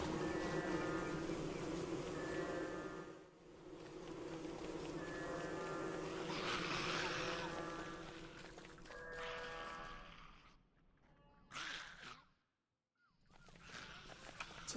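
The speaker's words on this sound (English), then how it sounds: "Got some killer bees!" Killer bees from the video game Don't Starve buzz in a steady, continuous drone with some tonal game sounds layered over it, dropping out briefly near the end before resuming.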